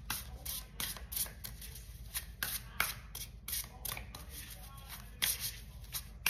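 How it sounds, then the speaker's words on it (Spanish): Cards are riffled and shuffled repeatedly in quick, crisp bursts close by, a steady papery flutter continuing throughout. "Vamos a barajar bien"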